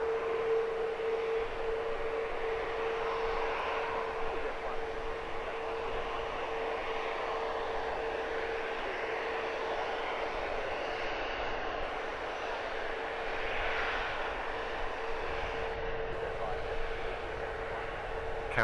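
EasyJet airliner departing Luton Airport for Belfast, a steady distant engine roar that persists for the whole stretch at moderate level, with a constant tonal hum beneath and no clear voices.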